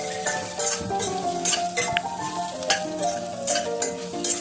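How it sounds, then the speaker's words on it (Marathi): Okra being stir-fried in oil tempered with crackled mustard seeds and cumin, a steady sizzle with repeated scrapes and stirs of a spoon in the pan, close and continuous with background music throughout. "भेंडी टाकल्याच्यानंतर असं परतून घ्यायचं आहे"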